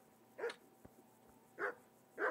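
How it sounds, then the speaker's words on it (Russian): Dogs bark in the medieval village of Kingdom Come: Deliverance, three distinct barks spaced apart and fairly faint, with small clicks between them. "И собаки как лают, да?"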